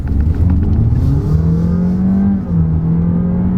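A 2020 Honda Jazz e:HEV hybrid accelerating hard, its engine note climbing steadily in pitch with a loud, continuous rising whir and drone heard up close, with no talk.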